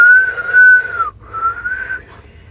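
A person whistles while breathing in, two close, steady wavering tones split by a short breath gap, with no talking.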